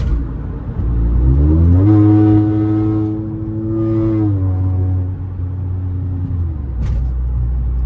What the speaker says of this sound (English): this car sounds better than an M5